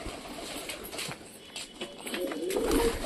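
Pet pigeons cooing nearby, soft throaty calls rising and falling over a short stretch with light background noise.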